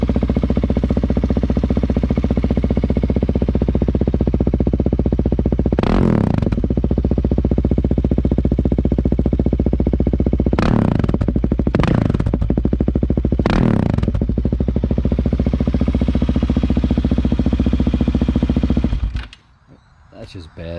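A Husqvarna SM 701 supermoto with an SC Project exhaust idles loudly and steadily, with several sharp throttle blips that rise and fall before the engine cuts off near the end.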